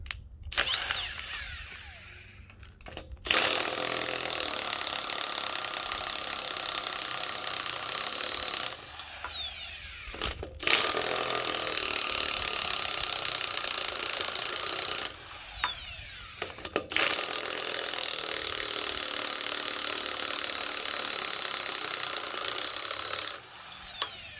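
A power tool runs in long, loud, steady stretches to remove nuts from a ball joint on a 2006 Ford E-150 XL, stopping briefly between each run.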